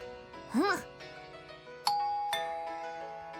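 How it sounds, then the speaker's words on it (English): A doorbell rings in the visual novel Senren Banka, a bright sustained chime ringing out over soft background music, with a rising bouncy jingle just before it. "The doorbell sounds."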